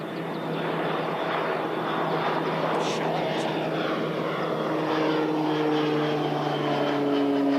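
A plane taking off at Christchurch Airport, its engine roar steady and loud with rising propeller-like drone tones building toward the end, while a person talks briefly.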